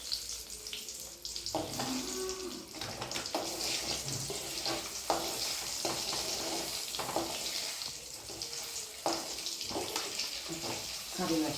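Urad dal frying in hot oil in a Kerala home kitchen, a steady close sizzle and crackle with occasional stirring scrapes, running continuously throughout.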